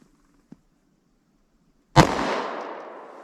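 A single sharp .40 S&W handgun shot firing a 165 grain bullet, a loud close blast at about two seconds with a long echoing decay, preceded by a faint click and near silence.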